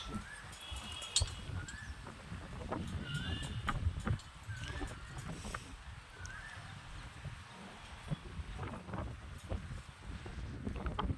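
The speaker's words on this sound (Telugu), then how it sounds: "చూడండి ఫ్రెండ్స్, గాలి సౌండ్. నా చెట్లు చూడండి." Wind gusts rumble and buffet the microphone in a steady low roar, with a few faint bird whistles repeating in the background.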